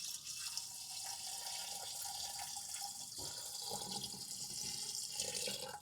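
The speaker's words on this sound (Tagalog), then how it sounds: "Lagyan natin ng konting tubig." Water pours from a tap into a sink for a steady few seconds while avocado is prepared for a sweet drink, with a brief louder splash partway through.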